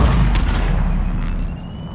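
Gunfire in a firefight in Mass Effect 3, with heavy booming shots and low rumble fading over the couple of seconds.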